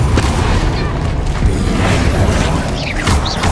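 Bombarda explosive spell in Hogwarts Legacy, a dense, loud booming blast with rumbling debris and mechanical clatter filling the whole short stretch during combat.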